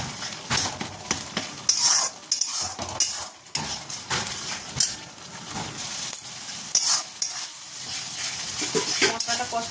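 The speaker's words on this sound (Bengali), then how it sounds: "দিয়ে আবার ভালো করে কষাবো।" A masala of spices with salt and sugar is stir-fried in a pan, with loud, repeated scraping and clattering strokes of a spatula over a continuous crackling sizzle.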